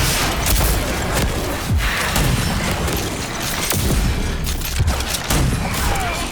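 Shotgun blasts ring out in a first-person shooter video game, a dense series of loud booming shots with clanking mechanical sounds, repeated every second or so amid continuous combat noise.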